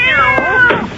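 A cat meows in a CBS Radio Mystery Theater drama, a close, fairly loud drawn-out meow with a second short mew near the end, alone without talk.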